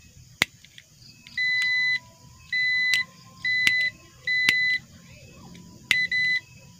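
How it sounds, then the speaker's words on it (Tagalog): A continuity tester on an electric planer's wiring sounds a series of about six short, sharp electronic beeps in a quick irregular rhythm, clear and close over a quiet room. "Dapat mag-buzzer yan eh."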